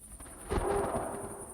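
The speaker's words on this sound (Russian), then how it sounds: "Еще какое-то время грозы бродили где-то рядом и задевали нас своим крылом." Thunder from a passing thunderstorm over a meadow and grove rolls in as a low rumble that swells and then lingers, heard alone without voices.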